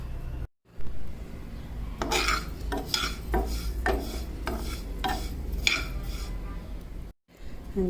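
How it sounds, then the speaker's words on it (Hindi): Cumin, carom and fennel seeds are dry roasted in a pan, with a spoon stirring and scraping them in a steady rhythm of scratchy rustles and clinks, close and moderately loud. "इसको आपने हल्का सा भूनना है, ज़्यादा नहीं भूनना।"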